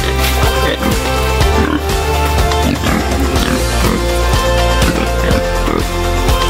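Domestic pigs grunt and oink repeatedly over a loud, constant hum, the grunts coming in a rough, uneven rhythm close by.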